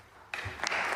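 Applause from the crowd at an English Open snooker match breaks out suddenly after a quiet moment and continues as a steady clatter of clapping.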